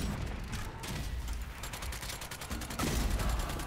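Rapid gunfire from a ricochet rifle in a multiplayer combat video game, dense crackling shots packed into steady bursts with a louder flurry near the end, no talking.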